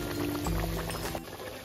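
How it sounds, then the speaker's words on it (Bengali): Tilapia curry in mustard sauce simmers on a medium flame, giving a steady close bubbling and sizzling with soft liquid pops throughout, easing slightly toward the end. "দেখো 2 মিনিট মতো মিডিয়াম ফ্লেমে ফোটানোর পর পাশ থেকে তেলও ছেড়ে দিয়েছে"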